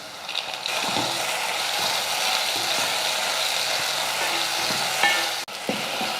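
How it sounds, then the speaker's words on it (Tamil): Chopped tomatoes and onions sautéing in oil for a mushroom gravy, a steady close sizzle broken by repeated scraping and clacking stirs of a spoon against the pan, with no talk. "தக்காளியும் நல்லா வதங்கி வந்துடுச்சு"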